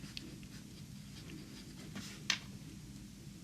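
A medium steel nib fountain pen scratches faintly across paper in short strokes, close and quiet over low room hiss, with one sharper tick near the end.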